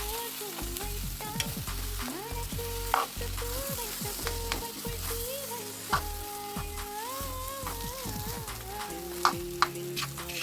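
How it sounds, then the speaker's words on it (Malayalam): Mashed potato for cutlets stirred and mixed in a hot pan, with a soft sizzle and repeated scraping, knocking spoon strokes, set against tuneful background music. "പിന്നെ നമ്മുടെ പൊട്ടറ്റോ ഇട്ട് കൊടുക്കാം നമുക്ക് നന്നായിട്ടൊന്ന് മിക്സ് ചെയ്യാം"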